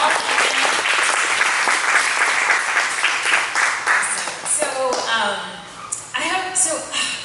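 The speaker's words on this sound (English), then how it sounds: "Let's give it a round of applause for our esteemed panel." A live audience claps for a climate communications panel returning to the stage at an LA Climate Week fireside chat. The applause is dense and steady for about five seconds, then thins out, and a voice begins speaking over the tail.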